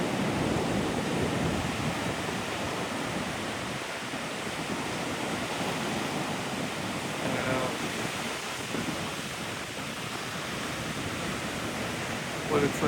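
Ocean surf at Australia's easternmost point gives a broad, steady rush of breaking waves mixed with gusty wind buffeting the microphone. A voice speaks faintly beneath the roar.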